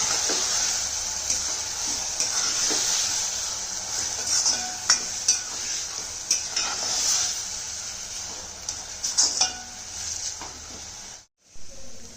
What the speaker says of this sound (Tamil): நம்ம இந்த துருவனை போட்டுருவோம். இதை நல்லா கிண்டிக்கிடுவோம்.